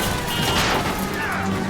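A loud, crunching collision as a car rams a van in the video game L.A. Noire, amid dense engine and impact noise, with no clean break in the roar.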